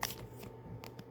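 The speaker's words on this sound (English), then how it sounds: "I am shuffling the cards" Tarot cards shuffled by hand in brief, quiet papery riffles and slaps, a few separate bursts spaced across a short moment, close and soft with no talking.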